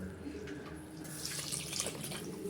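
Water is poured from a tumbler into old raw rice for prawn biryani, a steady close running splash that grows louder and brighter partway through, with no talk.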